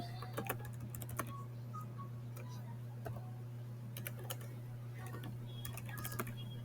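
Typing on a computer keyboard during a coding session, scattered bursts of crisp key clicks, some quick runs and some single taps, over a steady low electrical hum, close and fairly quiet.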